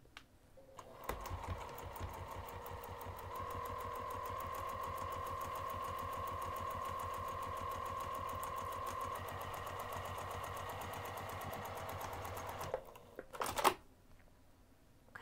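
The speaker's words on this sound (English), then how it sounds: "we're going to sew this again using a half inch seam allowance from the top of the divider down" A sewing machine runs steadily through fabric, stitching a half inch seam down a craft bag's lining divider. One long continuous run with a steady hum, close by and alone, ends in a brief clatter.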